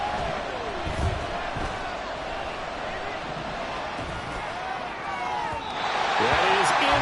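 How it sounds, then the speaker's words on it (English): A stadium crowd at a New England Patriots football game gives a broad swell of applause and cheering after a defensive stop, rising toward the end, with a commentator talking over it. "Some applause for the defense there."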